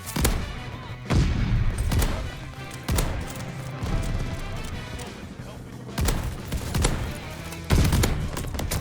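Shotguns fire in the Call of Duty Vanguard video game, a series of heavy booming blasts about once a second with rumbling tails, loud and close, under some background game noise.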